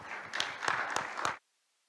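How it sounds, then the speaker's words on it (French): A conference audience applauds a panelist at an investment forum, a short, fairly soft burst of clapping with a few distinct sharp claps that cuts off abruptly into silence after little more than a second. "je dis bravo, et puis applaudissements pour le panéliste"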